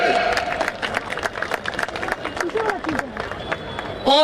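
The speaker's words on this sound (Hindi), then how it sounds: "और भी जोरदार तालियों से धन्यवाद करें" Audience applause at the closing ceremony of the third state Republic Day festival in Godda, 2025, a steady wash of clapping and crowd noise lasting throughout, with a louder burst at the very end.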